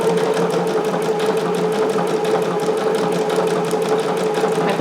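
Sewing machine running steadily while stitching a jumpsuit, a continuous close-up mechanical whir with fast rhythmic needle pulses and no pauses.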